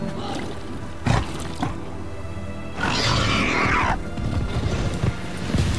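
A wild boar in the video game The Witcher 3 lets out a rough, roaring grunt lasting about a second, loud and close, set among scattered game noises and short thuds.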